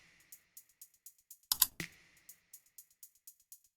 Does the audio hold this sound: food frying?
no